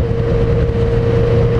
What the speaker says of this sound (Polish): No i moto z koszem.